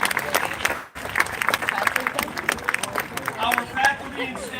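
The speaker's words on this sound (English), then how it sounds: "graduates, give them a round of applause" A graduation ceremony crowd applauds graduates' families, a dense wash of clapping mixed with cheering and a babble of voices, fairly loud and continuous with a brief dip near the start.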